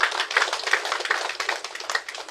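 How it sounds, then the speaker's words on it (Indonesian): A seated crowd at a groundbreaking ceremony for a state Islamic senior high school in Nagekeo applauds an official, producing steady, dense hand clapping close by with no talk over it. "Ini tepuk tangan untuk Bapak Kabit ini"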